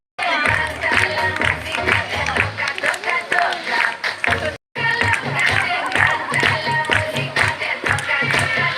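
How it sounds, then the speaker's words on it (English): Audience clapping in rhythm to encourage a dancing bird at the Kuala Lumpur Bird Park in Malaysia, steady loud claps with crowd noise and music, briefly stopping midway before resuming. "come on, clap your hand"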